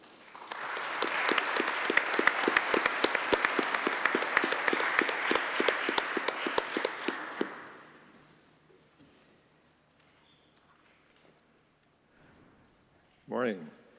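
An audience breaks into sustained applause welcoming Dr. Timothy Eastman to a physics and metaphysics session. The clapping is dense and steady for about seven seconds, then fades into near quiet with a brief voice at the end.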